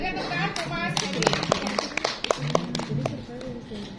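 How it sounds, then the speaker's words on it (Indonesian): A group at a WASH training session claps, a few seconds of brisk, close hand claps mixed with voices talking over them. "kita berikan tepuk tangan ke Mas Hedi."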